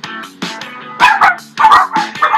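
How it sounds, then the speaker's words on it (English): Dogs bark and yip close by in a quick series of sharp, repeated barks with short gaps between them. "Oh, it sounds like the dogs want one too."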